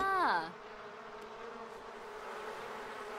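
Steady insect-like buzzing of bees around a beehive in The Sims 4, continuous and moderately close, following a short tonal swoop at the start.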